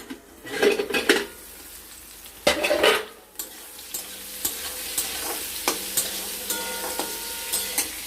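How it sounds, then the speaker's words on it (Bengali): Potato and pointed gourd frying in a pan, stirred with a metal utensil after the lid comes off: clattering scrapes and knocks against the pan in bursts, then lighter taps over a steady soft sizzle. "এবার আমরা একটু ঢাকনা খুলে নাড়াচাড়া করে দেবো"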